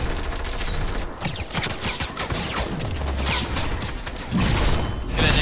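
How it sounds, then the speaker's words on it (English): Video game gunfire rattles in rapid continuous bursts, loud and dense with mechanical clatter and booms throughout, with almost no talk. "Shooting at you."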